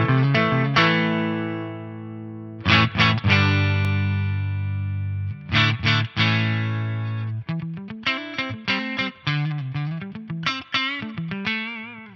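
An electric guitar plays through a Carvin Quad-X tube amplifier with the mids pushed, loud and close: sustained ringing chords followed by a bright run of picked notes, with the tone slightly driven and colored by effects.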